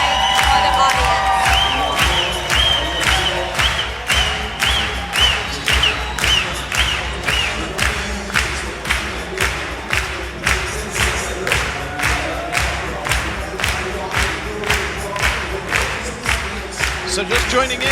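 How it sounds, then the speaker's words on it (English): A large audience applauds and cheers at the close of a World Pro Latin dance championship final, a steady, loud wash of clapping with rhythmic surges and shouts that keeps going without letup. "the applause is still going"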